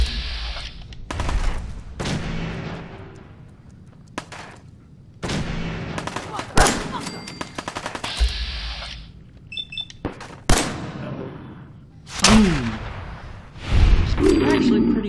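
Gunfire in Fallout 4 at the Museum of Freedom cracks out in repeated sharp shots and short bursts, loud and close, spaced irregularly with echoing tails, while someone talks between and over them.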